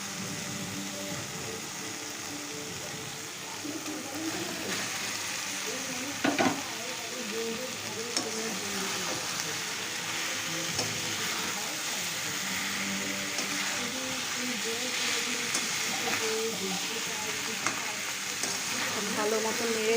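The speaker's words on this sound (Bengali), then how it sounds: "এবার আমি ভেজে রাখা ফুলকপিগুলো দিয়ে দেবো" Fried cauliflower goes into cooked masala and is stirred, making a continuous close sizzle and frying hiss broken by occasional spoon scrapes and clinks, with faint talk in the background.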